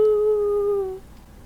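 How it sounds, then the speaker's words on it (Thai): In the horror game I'm on Observation Duty, on a rainy night, a single loud, tonal cat cry lasts about a second and falls slightly in pitch before cutting off into quiet. "ใช่นั่นเสียงแมว"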